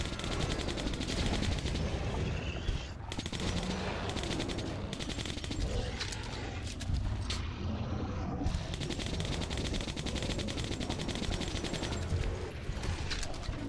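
Military-grade rounds pour out in sustained automatic gunfire in Metro Last Light Redux, a dense, continuous rattle of shots that barely lets up and runs loud throughout.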